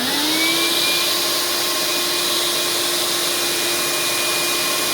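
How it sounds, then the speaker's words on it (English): A shop vacuum spins up and runs loud and continuous, with a rising whine that settles into a steady roar right up close. "I'll turn on the shop vac."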